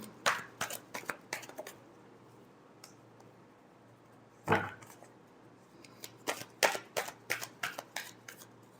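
Tarot cards shuffled by hand during a love reading, quiet close riffling and clicking in bursts, with a pause before a final flurry of rapid card flicks.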